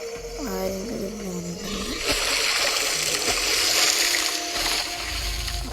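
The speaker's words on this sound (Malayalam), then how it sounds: "ആദ്യം കുറച്ച് വെള്ളം കുടിച്ച് തന്നെ തുടങ്ങാം." Carnotaurus dinosaur drinking water in a video game: a throaty growl first, then a continuous loud splashing, gulping water rush that builds and fills the rest.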